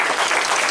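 A brief burst of dense applause from a crowd, loud and continuous.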